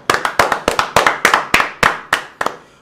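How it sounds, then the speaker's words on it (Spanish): Audience clapping on a radio show, heard as about a dozen sharp, evenly spaced claps in a steady rhythm, close and loud, with no voices over them. "Fuerte el aplauso, mi gente."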